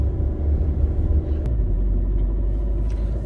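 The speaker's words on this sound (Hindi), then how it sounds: "और गाड़ी की आवाज सुनो भाई, कितना दम लग रहा है गाड़ी की आवाज में।" A car engine straining uphill on a steep mountain road toward Jakhu Temple, a continuous heavy low rumble heard from inside the vehicle, steady and loud with no talk over it.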